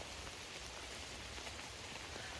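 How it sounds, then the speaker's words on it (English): Steady rain falls on a hiking trail on the Appalachian Trail in Vermont, a soft, even hiss of drops with no voices. "It's raining"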